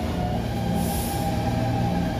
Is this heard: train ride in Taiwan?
yes